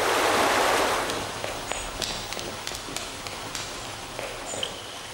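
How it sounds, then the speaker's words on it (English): Water gushes and murmurs through rock into a deep marble bath, a steady rushing stream loudest at the start, then settling into a continuous softer flow with faint scattered trickles and splashes. "The murmuring of the water gushing through the rock makes it the most charming thing"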